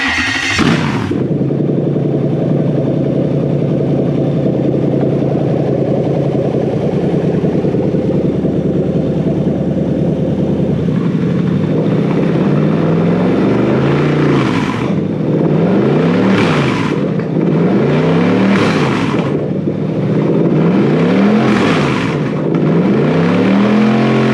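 Toyota 3UZ V8 engine on a Haltech ECU, loud and close, starting up and idling steadily, then revved in a series of sharp rising blips in the second half, with no talking.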